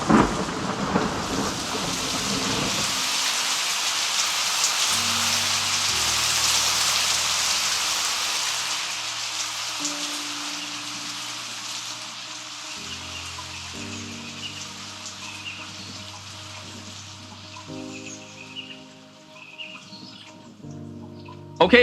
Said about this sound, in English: I know the thunderstorm, it was kind of difficult to talk through all that